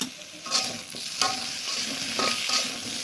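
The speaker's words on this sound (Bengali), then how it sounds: "খুব অল্প তেলে আস্তে আস্তে সুন্দর করে ভেজে নিতে হবে" Tomatoes fry slowly in a little oil on low heat, a close, continuous sizzle with a few louder stirring scrapes rising at intervals, and no talking.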